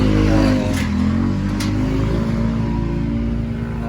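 Idling engine of a Honda Civic shown with the hood open, a loud, close, steady rumble with a faint rise in revs near the start and no talking.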